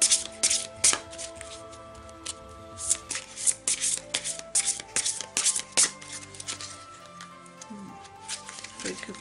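Oracle cards for a Gaia reading being shuffled and cut by hand, giving repeated crisp riffling bursts and soft flicks at close range over about nine seconds, with faint background music and no speech.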